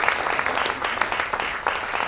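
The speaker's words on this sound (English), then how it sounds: "Usually right now, a thunderous round of applause." Audience applause at a member event following a short talk, a dense burst of clapping that stays fairly even throughout.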